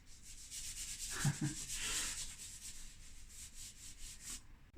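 Charcoal and chalk pastel being smoothed across paper for a portrait underlayer, a soft continuous rubbing hiss close to the mic with a few slightly firmer strokes partway through, and no voices.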